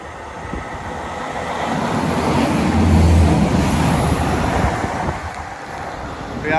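A St Pancras Meridian passenger train runs past at Tapton bridge near Chesterfield with a steady, loud rumble that swells toward the middle and then eases, mixed with heavy wind buffeting on the microphone.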